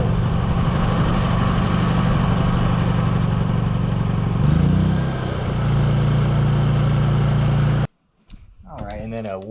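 Honda EU3000 generator engine running steadily after a warm start, a loud, even drone close by that briefly changes pitch, then cuts off abruptly before someone speaks.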